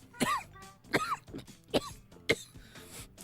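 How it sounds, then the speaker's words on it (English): Four sharp, harsh coughs, evenly spaced about half a second apart, close and fairly quiet, from someone after a hit off a joint. "One hit off that joint, and you're gonna be coughing"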